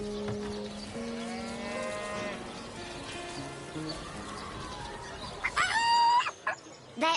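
A rooster crows in a video game, its shrill, rising call ringing out near the end over layered farmyard sounds including mooing cattle.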